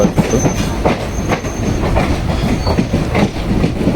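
A train runs along a railway line in Kerala near Ottapalam, loud and close, with rhythmic clickety-clack wheel beats, rumbling carriages and brief high wheel squeals.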